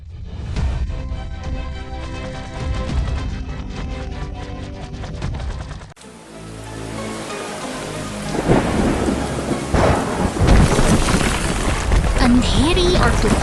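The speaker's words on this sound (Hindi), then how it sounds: "अंधेरी और तूफानी रात में प्रकृति ने अपना रौद्र रूप दिखाया है।" Heavy rain pours steadily through a dark stormy night in a mountain setting, with loud rolling thunder building and a sharp crack near the end, the downpour dense and continuous throughout.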